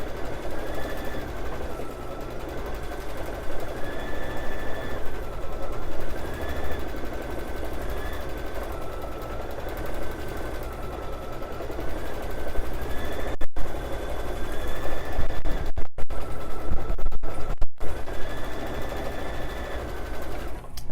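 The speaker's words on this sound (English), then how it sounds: "Almost done with the embroidery here." An embroidery machine stitches a quilt with a fast, continuous mechanical chatter, close and steady, with a repeating whirring tone cycling throughout and a few brief clicks and breaks in the second half.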